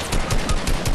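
Rapid gunfire in the video game Fortnite, a quick series of about five evenly spaced loud shots packed into one second, close and punchy with no talk over it.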